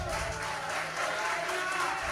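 A church congregation applauds steadily during a live Sunday anniversary service, the dense clapping and crowd noise continuous and fairly loud throughout, with voices mixed into the wash.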